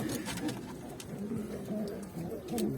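Pigeons cooing repeatedly in soft, throaty bursts inside a coop, several birds close by, with a faint background murmur.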